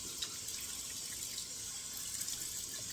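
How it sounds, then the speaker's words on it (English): Cold tap water splashing on a face after a wet shave, running faucet and light splashes at a bathroom sink, soft and steady with a few small splash peaks, no talking. "Then I'm just going to give 2 more splashes of cold water just to kind of give it a little light rinse off."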